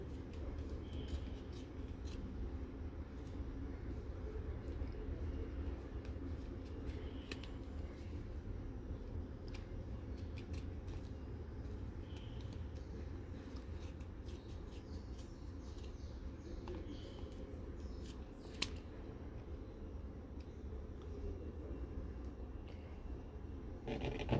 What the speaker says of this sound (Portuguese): E vou começar a cortar no meio.